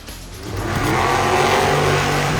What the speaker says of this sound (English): Who will win the monster truck versus monster car battle?